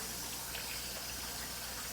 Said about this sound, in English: Well, you can run some cold water in it.